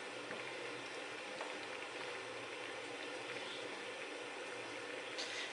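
Oats and sea moss porridge bubbles in a pot on the stove, making a dense, continuous low bubbling and hiss that holds steady throughout, close and moderately quiet.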